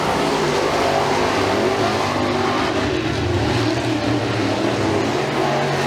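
Race cars roar around the track at Freedom Motorsports Park during a heat race, engines loud and continuous as several cars run together without a break.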